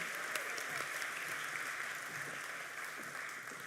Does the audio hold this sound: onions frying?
no